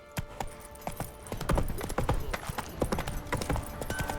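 Hooves of the horse Roach pound in a quick, steady galloping rhythm in The Witcher 3, each strike crisp and close, continuing throughout with some game ambience behind.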